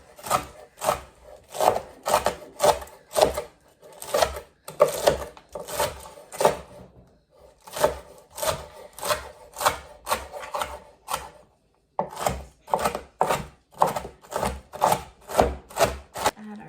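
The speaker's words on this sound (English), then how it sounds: "All right, I'm going to chop it up." Food being chopped with a knife on a cutting board: loud, close, rapid knocks in quick bursts separated by short pauses, keeping a steady rhythm with no talking.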